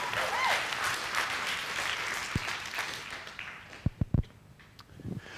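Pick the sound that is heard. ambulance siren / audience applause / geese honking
audience applause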